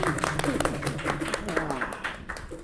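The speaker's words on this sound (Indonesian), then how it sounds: "Tepuk tangan untuk semuanya" Scattered clapping from an audience closes a philosophy presentation, brisk individual claps under a voice that keeps speaking close by.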